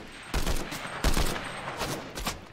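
Rapid bursts of gunfire from a heavy-recoil gun in Fortnite, several loud clustered volleys separated by brief gaps, with no talking.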